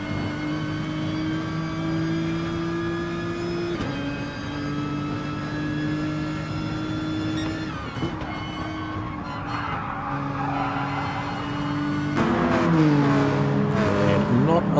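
Race car engine of a GTR in GT Sport at Brands Hatch, steady high revving drone with gear shifts, then tires squealing and skidding toward the end, with a voice talking over it.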